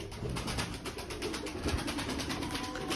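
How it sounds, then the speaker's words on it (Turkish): Female pigeons coo softly in a steady, repeated pulsing rhythm nearby, with no talk over them. "Burada da dişi güvercinlerimiz var"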